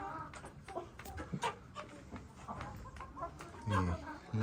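Hens of Rhode Island Red and Black Australorp breeds cluck and squawk in a poultry pen, a scattered run of short calls at moderate distance, with a louder burst near the end.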